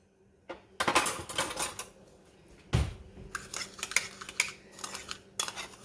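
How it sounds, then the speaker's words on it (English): A spoon clinks and scrapes around a bowl while sugar, cinnamon and nutmeg are mixed together, with quick rattling strokes starting and stopping, close and fairly quiet. "we're just going to give this a good mix"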